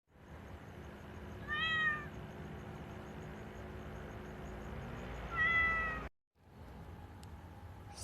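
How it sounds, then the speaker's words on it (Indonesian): A cat gives two distinct meows a few seconds apart, fairly close and clear over a low steady background hum, followed by a brief cut to quiet. "Lalu ada kucing eong-eongan."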